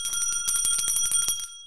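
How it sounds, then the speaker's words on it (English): A small hand bell rung rapidly in a quick series of bright metallic dings, close and loud, then stopping abruptly. "Did you ring the bell, by the way?"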